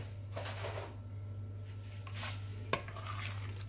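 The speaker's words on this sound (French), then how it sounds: "Et je mélange le tout." Escalope pieces for KFC-style tenders being mixed in marinade, giving soft wet stirring and scraping sounds with a sharp clink near the end over a steady low hum.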